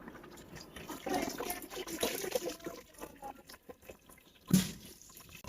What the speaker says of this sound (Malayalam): നമുക്ക് തണുത്ത വെള്ളത്തിലൊന്ന് മുക്കിയെടുക്കാം രണ്ടു മൂന്ന് വെള്ളത്തിൽ ഒലച്ചെടുക്കണം